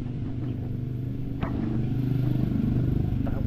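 A motorcycle engine runs at a steady idle with a low, continuous rumble close by, and a single sharp clatter breaks in partway through.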